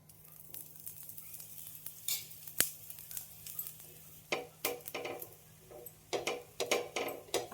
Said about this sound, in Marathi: आता मी तूप टाकते.